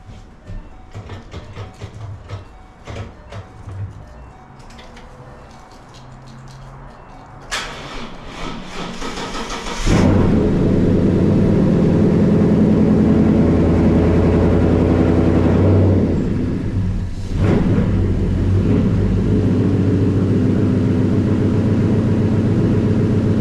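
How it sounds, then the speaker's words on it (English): A 2014 Mustang GT Performance Pack engine cranks and fires up, settling into a loud, deep rumbling exhaust idle that holds steady with a brief dip and swell. "I want you to guys hear the exhaust on this bad boy. It sounds so mean."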